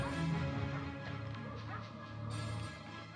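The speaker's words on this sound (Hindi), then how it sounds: "सर वहाँ कुत्ता क्यों भौंक रहा है?" A dog barks and yips repeatedly in a Hindi film scene, its voice sitting over a background of music and ambient noise, fairly close and moderately loud.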